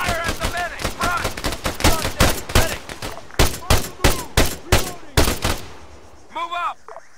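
Rapid bursts of gunfire from the military shooter ARMA 3, a dense run of sharp shots and volleys through most of the stretch, loud and close, with a voice breaking in near the end.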